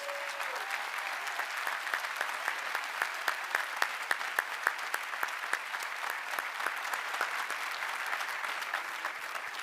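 Graduation audience at the 2024 Cushing Academy commencement gives a long, sustained round of applause, a dense, fairly distant clapping texture with distinct sharp claps scattered through, steady for nearly ten seconds.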